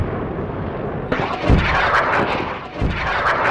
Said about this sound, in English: The rocket flies into space!